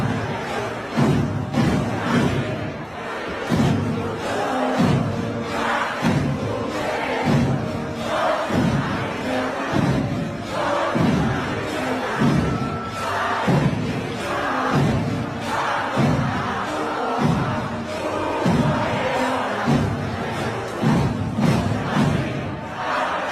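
A large protest crowd chants in a rhythmic, repeating pulse with cheering and a band keeping a steady beat, dense and continuous throughout.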